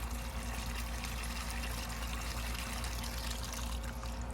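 Water draining and trickling after a flush of a Universal Rundle urinal on a piston flushometer, a steady continuous pour and gurgle heard alone at close range.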